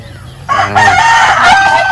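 Chickens and a rooster at a native chicken farm, with a loud rooster crow rising over the flock's clucking and holding steady to the end.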